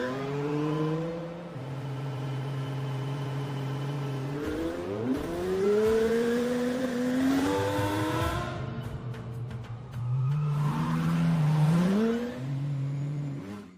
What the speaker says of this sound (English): That helps define where the engine sound and wind should appear.